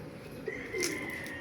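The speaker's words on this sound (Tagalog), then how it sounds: "May mga kalapati pa pala tayo doon sa loob." Racing pigeons in a loft give a soft, brief coo and a short call, close and fairly quiet over a low hiss of background noise.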